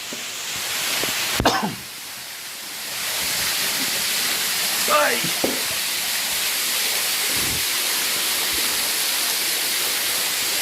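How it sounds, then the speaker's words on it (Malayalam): Broadband rushing water fills a cave in Munnar, a steady hiss of a waterfall echoing close by, broken early by a sharp knock and some brief scraping and movement noises. "ഗുഹയ്ക്കുള്ളിലെ വെള്ളച്ചാട്ടം"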